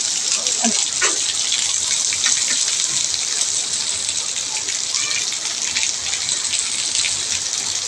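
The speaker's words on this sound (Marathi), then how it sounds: "मित्रांनो किती मोठं ठेंब आहेत बघितलं का किती मोठा पाऊस येतो" Heavy city rain falling in big drops, a loud steady hiss and patter of a downpour close by, with someone speaking faintly beneath it.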